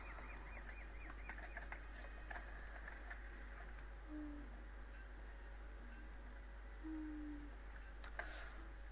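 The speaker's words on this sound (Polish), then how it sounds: "Ach, ptaszki." Faint, sparse bird chirps from the video game Don't Starve sound over a quiet, ticking background, with a few brief calls scattered across the stretch.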